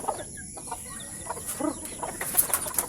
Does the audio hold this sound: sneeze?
no